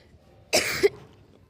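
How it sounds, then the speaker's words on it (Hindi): A single sharp, close cough with a throat-clearing catch at its end breaks an otherwise quiet indoor moment. "थोड़ा प्रॉब्लम है, खांसी वाला सीन है।"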